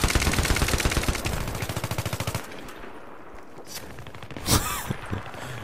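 M60 machine gun fire in the video game Battlefield 3 comes as a loud, rapid sustained burst of shots. It then stops and leaves quieter battlefield sounds with a lone sharp shot later on.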